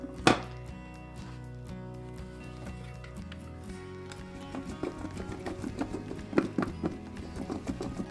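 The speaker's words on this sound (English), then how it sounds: "So I'm going to pop the lid back on and just give these a shake" Potatoes shaken in a lidded pot for British roast potatoes, a dense, continuous rattle of knocks and clatters close by, building busier toward the end.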